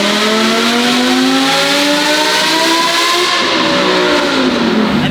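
Supercharged Lamborghini Huracan of roughly 2,000 hp revving hard on a dyno, a loud, close engine note sweeping up and down in continuous rising and falling pitch with no talking.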